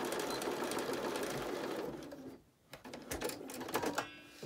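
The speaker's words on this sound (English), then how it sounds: "take it to your machine and stitch it down" Sewing machine stitching down the elastic pocket on a fabric mask, a close, rapid mechanical whirr of needle strokes that pauses briefly midway and then runs again in short bursts.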